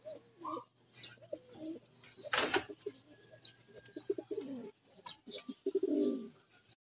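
Racing pigeons arriving at the loft after a 155 km training flight, with soft repeated cooing and brief wing flaps close by, plus a sharp burst of flapping midway and a low steady hum underneath.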